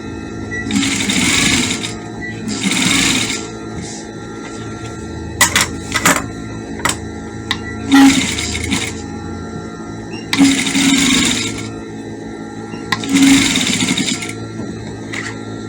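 Sewing machine back stitching a seam on a kids' peplum dress, running in several short bursts of rapid stitching with quiet pauses and light clicks between them, close and clear.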